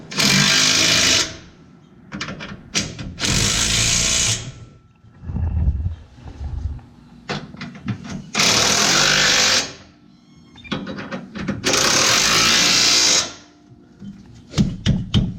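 A power tool runs down a 17 mm bolt on a Ram truck steering stabilizer, sounding as loud repeated bursts of rattling mechanical noise separated by short quiet pauses.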